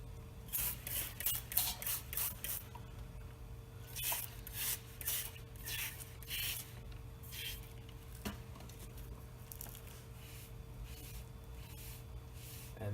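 A Mr. Clean Magic Eraser scrubs road grime off a wet tire whitewall, giving repeated soft back-and-forth rubbing strokes close up, strongest early on and fading to a quieter, steady scuff.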